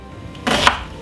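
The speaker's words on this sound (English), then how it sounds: "Cut up half of a white onion." A knife chopping half of a white onion, one short burst of cutting against a board, close and clear, with no talk.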